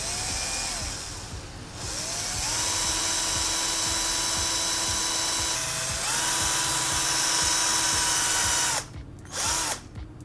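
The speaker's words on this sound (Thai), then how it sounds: "สำหรับฝาเจาะรูเราก็ใช้สว่านเนี่ยนะครับ" An electric drill bores a hole through a plastic bottle cap. The motor whines steadily, shifts pitch a few times as the bit bites, then stops with a couple of short final bursts.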